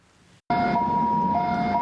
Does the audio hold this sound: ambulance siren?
yes